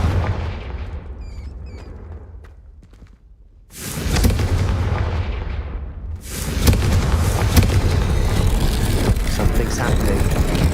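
Confringo blasting spell from Hogwarts Legacy going off in a dark corridor, a sudden loud booming burst after a quiet lull, followed by sustained rumbling roar and crackle, with a voice speaking over it.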